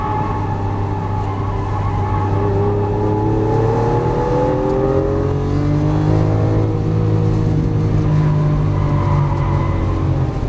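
A loud Lamborghini Aventador LP700-4 engine drones steadily, its pitch climbing and shifting through gears as it revs, heard from inside the car with no talking.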